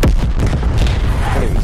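Artillery shells striking in Black Ops Cold War, opening with a loud close boom that decays into sustained low rumble with smaller thuds scattered after.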